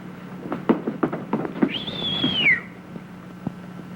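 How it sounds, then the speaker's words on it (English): A man gives a single rising-then-falling wolf whistle at a woman, a clear sustained tone lasting under a second, following a few sharp knocks and clatters in a quiet room. "Did you whistle, sir?"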